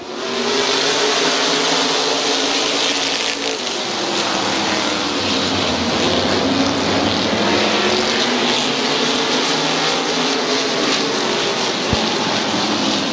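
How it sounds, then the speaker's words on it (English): Race cars roar around the oval at Midvale Speedway in a loud, dense wall of engine noise, with pitch swelling and fading as the pack sweeps past. The noise holds steady without pause. "Getting ready to go, green flag racing, 1 lap complete, 14 to go."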